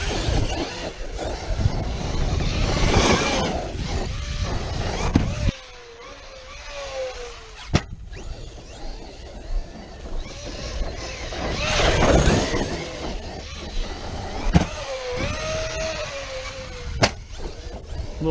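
A Traxxas XRT 8S RC monster truck rips around outdoors, its electric motor whining and surging in loud bursts with revving pitch sweeps, brief drops to quieter coasting, and sharp knocks from landings.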